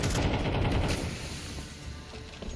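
Loud, dense bursts of gunfire and a heavy grenade blast in a professional Counter-Strike match, rumbling continuously through the whole moment, strongest at the start and easing slightly afterward.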